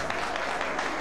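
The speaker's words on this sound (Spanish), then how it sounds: "un aplauso para ustedes" Brief burst of audience applause at a live concert recording in a cultural centre, a dense steady patter of many hands, moderately loud, with no voices over it.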